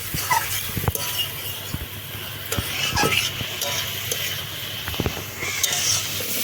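Leafy greens frying with garlic and onion in a pan, a close crackling sizzle broken by repeated sharp scrapes and clinks of a spatula stirring against the metal.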